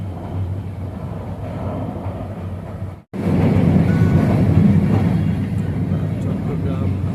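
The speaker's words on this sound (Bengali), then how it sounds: "আমাদের ট্রেনটি চট্টগ্রাম পোর্টল্যান্ড ডিপোর পাশ দিয়ে এগিয়ে যাচ্ছে কক্সবাজার রেলওয়ে স্টেশনের দিকে" A passenger train rolls past the Portland cement depot in Chattogram on the Dhaka–Cox's Bazar line, a steady low rumble heard from on board that cuts out briefly and then returns louder, with indistinct voices now and then.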